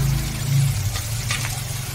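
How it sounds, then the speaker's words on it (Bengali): Capsicum and chopped chillies frying in a pan as spaghetti pasta is cooked at home, a steady soft sizzle with a low hum underneath and a few brief stirring scrapes near the end. "সামান্য ভাজা ভাজা করে নেব।"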